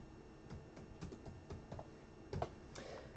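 Soft, close keystrokes on a computer keyboard in a steady uneven rhythm of light clicks, with a slightly louder cluster near the end and no talking.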